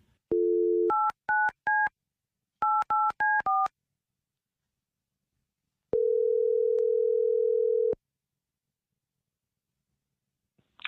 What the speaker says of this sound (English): So, Bella, we're going to call up Griffin